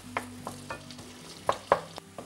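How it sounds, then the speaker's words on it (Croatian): Chopped onion and carrot fry in a pan under a faint sizzle, broken by several sharp scraping stirs of a utensil, two of them louder, over a low steady hum. "Sada ćemo to fino da propržimo tako da luk malo poprimi boje ili bar uvehne"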